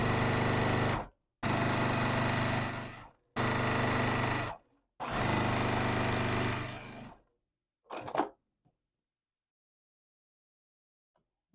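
Sewing machine stitching a tiny fabric strip for a Peony Star quilt block, a loud close steady mechanical whirr in four bursts separated by short stops, then a brief clack and silence.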